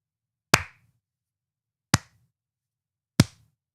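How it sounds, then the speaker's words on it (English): Three slow, deliberate hand claps, sharp, close and evenly spaced about a second and a half apart, with silence between them. "Get that out of there, you idiot. Slow clap."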